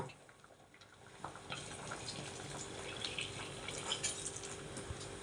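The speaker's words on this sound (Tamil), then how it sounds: "ரெண்டாம் பாலை நம்ம இப்போ விடுறோம்" Second-extract coconut milk poured into a pot of jackfruit payasam, a soft continuous liquid trickle and splash that builds slightly, fairly quiet and close.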